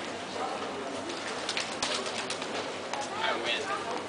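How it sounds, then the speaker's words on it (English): Pigeons coo nearby in Venice, with bursts of calls and rustling while people talk over them. "Matt, chasing pigeons."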